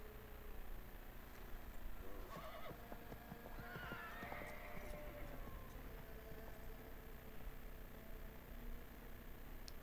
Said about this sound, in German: Waren das unsere Pferde?